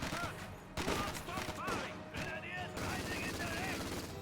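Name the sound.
machine gun fire in Company of Heroes 2 video game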